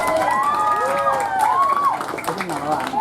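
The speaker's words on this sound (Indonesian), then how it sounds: "terdengar gemuruh tepuk tangan, dukungan dari warga yang sebelumnya sempat bersih tegang" Residents clapping and cheering outdoors as an ambulance takes away COVID-19 contact patients, a loud crowd roar with rising siren-like tones and voices mixed in throughout.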